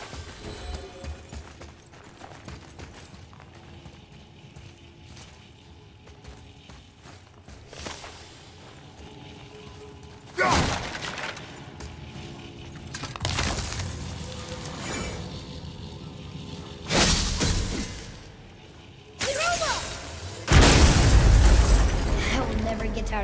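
Objects shattering in the video game God of War, sharp crashing bursts arriving in clusters around the middle and end over a low game ambience, with some voice-like sounds in between.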